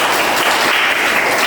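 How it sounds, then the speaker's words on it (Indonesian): A classroom of students breaks into applause, a brief, loud burst of many hands clapping together. "Oke, tepuk tangan."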